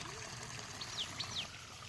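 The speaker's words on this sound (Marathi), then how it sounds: "या पिकातून त्या पिकात कसं झुळझुळ पाणी वाहत आहे पाहू शकताय तुम्ही" Floodwater from excessive rain trickles softly and steadily through a crop field, with a few faint high chirps or squeaks in the background.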